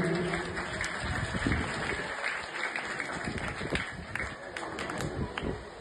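Schoolchildren at a government senior secondary school's Independence Day event clap for donated ceiling fans, a dense, steady wash of many hands close by, mixed with shuffling and a few voices.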